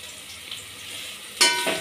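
Chicken pieces coated with turmeric, salt and garlic hit a hot pan with a sudden loud sizzle after a quiet start, the crackle holding steady near the mic.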